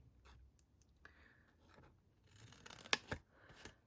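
Scissors snip a triangle of paper away with a few quiet, close cuts and light rustles, a sharper crisp snip near the end.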